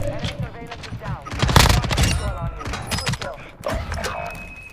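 Rapid bursts of automatic gunfire in the shooter game Warzone 2, loud and close, with a player talking over the shots.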